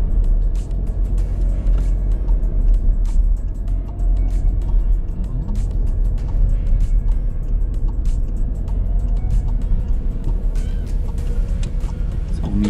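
A car drives through town streets during a driving lesson, with a steady low engine and road rumble heard from inside the cabin and small clicks and knocks over it, and no talking.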